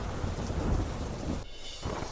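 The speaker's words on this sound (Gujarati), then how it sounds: "અરવલ્લી જિલ્લાના મેઘરજમાં ધોધમાર વરસાદ." Heavy rain pours down in Meghraj, Aravalli district, Gujarat, a dense, steady hiss of rainfall with a low rumbling undertone across a short two-second burst.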